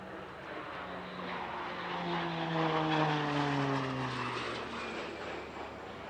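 PC-9 trainer aircraft flying past at an airshow, its propeller engine building to a loud pass with a falling Doppler drone, then easing away, heard alone.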